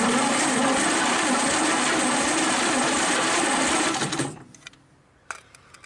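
A 1931 Ford Roadster engine cranks over on the starter during a compression test, a loud continuous whirring churn that cuts off abruptly after about four seconds, followed by quiet with a couple of small clicks.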